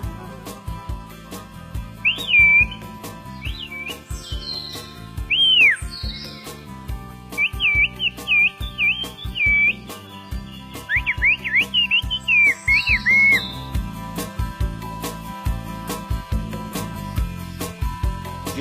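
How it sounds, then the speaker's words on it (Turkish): Turkish whistled language, with a person whistling speech in sharp, gliding high-pitched phrases in several bursts. A steady background of rhythmic thumps and music-like tones runs underneath, and no one speaks. "Geliyor mu dediğini ıslıkla söyleyebiliyor."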